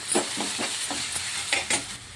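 Chili, turmeric, coriander and cumin powder frying in oil for a dried fish and broad bean curry, an even sizzling hiss with quick rhythmic scrapes of a spoon stirring the pan, close and without speech.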